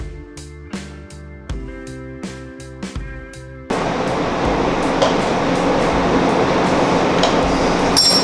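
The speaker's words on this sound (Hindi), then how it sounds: "टमाटर ऑलमोस्ट भुन चुके हैं और अभी मज़ीद भुन रहे हैं।" Tomatoes fry in a pot of oil and onion paste for handi biryani, giving a steady, dense sizzle that fills the second half. Ringing, chime-like tones come before it.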